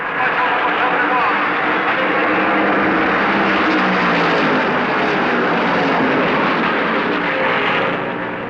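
NASCAR stock cars roar at full throttle during the 1970 Southern 500, Donnie Allison's car leading Cale Yarborough's number 21 Mercury, a dense continuous engine drone under an announcer's commentary.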